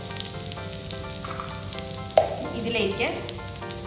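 Beef frying in a pan for a home-style Kerala beef ularthu, sizzling steadily with a sharp spoon scrape as the meat is pushed aside, a short spoken word heard briefly.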